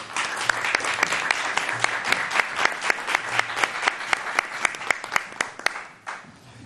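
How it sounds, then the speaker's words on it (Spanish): Applause in a legislative culture committee session, a smaller group clapping with distinct sharp individual claps in a quick uneven rhythm, fading out near the end. "Un aplauso."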